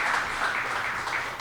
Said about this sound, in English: I want everybody to give them a round of applause